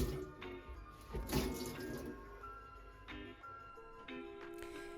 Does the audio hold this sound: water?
yes